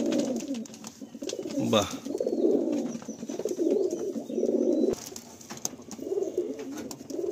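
Pigeons coo repeatedly in a pigeon loft, their low throaty calls rolling on and off close by, with a brief voice speaking once.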